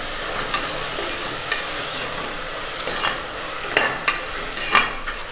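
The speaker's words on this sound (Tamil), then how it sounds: "இப்போ இதை நல்லா வதக்கிட்டுலாம்" A rice and dal mixture with rock salt sautés in a pan, giving a continuous sizzle broken by several sharp scrapes and clacks of a spoon stirring against the vessel.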